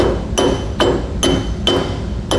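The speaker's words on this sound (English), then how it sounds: "Just kinda give it a little tap with your hammer." Five sharp metallic hammer taps, evenly spaced about half a second apart, knocking the center cap off an electric trailer brake hub, each strike ringing briefly against a steady low background hum.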